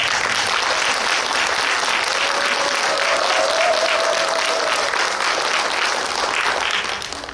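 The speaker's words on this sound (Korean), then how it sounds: "우리 이 세무를 위해서 더욱 힘내시라고 힘찬 박수 한번 주십시오." Sustained, dense applause from the audience at a Jeollanam-do private daycare centre association workshop in Suncheon fills the hall evenly at close range, easing off slightly at the very end.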